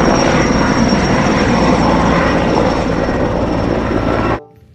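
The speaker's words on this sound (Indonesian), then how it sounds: "Helikopter." A steady whirring, buzzing motor drone like a toy helicopter runs loud and continuous, then cuts off abruptly near the end.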